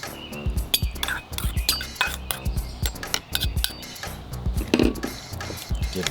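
Tartar sauce with jarred garlic, horseradish, pickles, Frank's hot sauce and fresh dill being mixed in a bowl with a utensil, giving a run of close, irregular clinks and scrapes against the bowl, with no talking.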